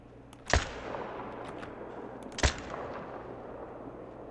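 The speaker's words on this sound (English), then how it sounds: "Okay, I shot the two I wanted to get." Two loud hunting rifle gunshots in the Call of the Wild video game, about two seconds apart, each a sharp blast with a decaying echo tail.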